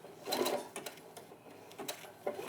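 A sewing machine stitches an appliqué block on its default setting, running in several short, close bursts of rapid mechanical clatter with brief pauses between them.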